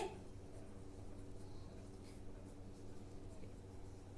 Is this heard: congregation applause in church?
no